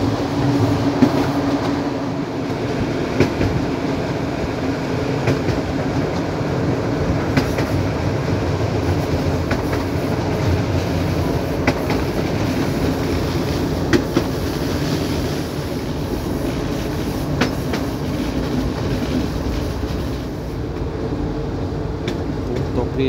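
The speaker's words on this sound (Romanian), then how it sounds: "erau trenuri cu multe vagoane, acum avem numai două" A passenger train runs steadily through the Eastern Carpathians on the Comănești–Miercurea Ciuc line, a continuous loud rumble of wheels and carriages with faint rail clatter throughout.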